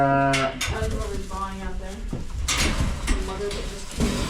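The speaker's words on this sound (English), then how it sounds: "So right now we're giving the sheep some dinner and some pellets" Katahdin hair sheep bleat loudly at close range while being fed pellets. A long call opens the clip, and shorter calls and clattering noises follow.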